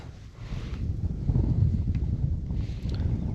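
Strong outdoor wind buffets a microphone, producing a low, rumbling roar that swells and stays steady throughout, with no speech.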